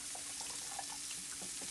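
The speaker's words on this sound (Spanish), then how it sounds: "vamos a poner aquí el agua, el vasito" Water poured into a small glass while preparing a coconut drink, a faint, steady liquid splashing and trickling sound with no voices.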